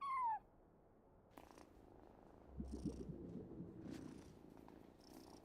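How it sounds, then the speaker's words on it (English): A cat purrs at a hotel front desk in the Genshin Impact video game: a soft, low, steady rumble that starts partway through and continues to the end, with a few faint chimes and game effects around it. "No one except for a cat watching over the front desk."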